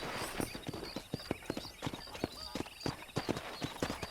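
Horse hooves clip-clopping at a steady walking rhythm in the Western video game Red Dead Redemption, distinct close hoofbeats over a soft ambient background.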